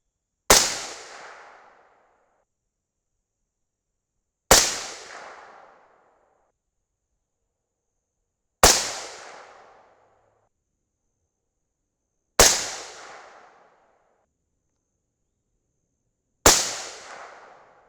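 Five loud .223 Remington rifle shots firing 77-grain Berger OTM Tactical loads with N540 powder, evenly spaced about four seconds apart, each a sharp crack with a short decaying tail, alone with no talk.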